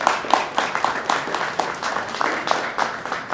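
Audience at an outdoor city press conference for a new public pool clapping in a brisk, rhythmic burst, close and fairly loud.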